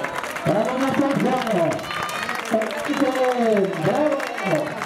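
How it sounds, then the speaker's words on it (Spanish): Crowd applause greets runners at a rural cross-country race in Valdemierque, 2011, with steady clapping running through the whole stretch while an announcer's voice shouts over it. "¡Bravo! ¡Bravo, un aplauso!"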